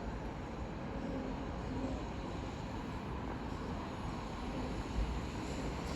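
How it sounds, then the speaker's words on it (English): A pair of Southeastern Class 375 trains passes through New Cross on the South Eastern Main Line, a steady broad rumble and roar of wheels and motors that holds at an even level throughout. "As soon to pass through now will be a South Eastern pair of 375s going from Maidstone East to London Charing Cross."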